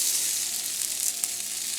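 Red onion cut into petals sautés in a pot, giving a steady, soft sizzle with light crackle and one brief pop, no voices over it.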